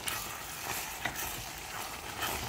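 Fig and walnut jam gets stirred in a cooking pot, a soft continuous bubbling and scraping hiss with a few faint spoon clicks, quiet and close, without speech.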